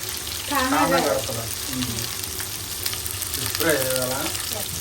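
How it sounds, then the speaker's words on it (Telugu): Fish frying in a pan beside other cooking, with a steady sizzle running throughout, while someone speaks over it in two short stretches. "పక్కన అయితే చేపల ఫ్రై అవుతుంది"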